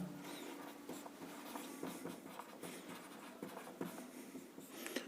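Chalk or marker scratches across a classroom board as a math formula is written out, producing faint, irregular strokes and taps at close range.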